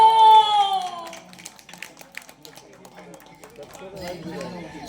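Comedy show audience at a village performance in Kallurani breaking into scattered clapping and crowd chatter after a loud sustained tone, the applause faint and diffuse rather than a strong ovation.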